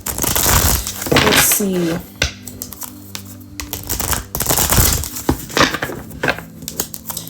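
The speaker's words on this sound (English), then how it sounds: "the cards just ain't shuffling like they normally do" Tarot cards are shuffled in quick bursts of papery riffling and slapping, loud and close, with short spoken remarks between the bursts.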